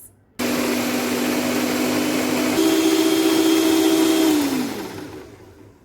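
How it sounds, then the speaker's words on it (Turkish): An electric mixer whisks eggs and sugar for a tiramisu tart, a close, steady motor whine that starts abruptly, holds, shifts pitch slightly partway, then winds down as it is switched off. "Şimdi yumurta ile şekeri 3-4 dakika çırpacağız"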